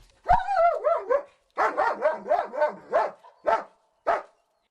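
A search-and-rescue dog barks loudly in a run of sharp, rapid barks and yelps, some drawn out, close by with short pauses between bursts.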